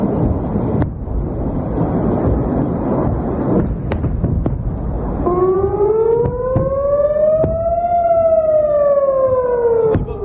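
A civil defense siren wails over a residential area of Israel during a Hezbollah rocket attack, rising in pitch and falling again after a stretch of wind noise and scattered thuds, heard alone without speech.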